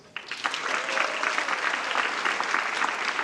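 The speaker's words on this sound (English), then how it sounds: "I'm not too surprised when we have most people clapping" Audience clapping at a Portland State University talk on social innovation and the census, a dense, steady wash of many hands that starts abruptly and holds for about three seconds without fading.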